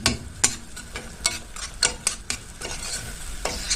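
Spices and onion for Egyptian sayadiya fish rice stirred and frying in a pan, a soft sizzle broken by repeated sharp scraping clicks of a spoon against the pot, close and steady with no talking.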